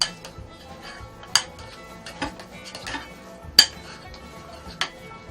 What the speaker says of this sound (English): I'm going to add the bacon to the mashed potatoes and stir it up.